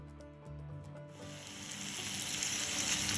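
Bitter gourd frying in a pan: after a second of quieter clatter and hum, a bright hiss of sizzling oil rises and grows louder toward the end.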